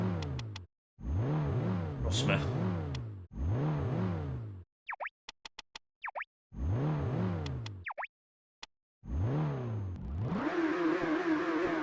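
A car engine in the PS1 Ford Racing game revs in repeated sweeping bursts that rise and fall in pitch, broken by short clicks and plopping blips, ending in a sustained rising roar, with a brief spoken remark.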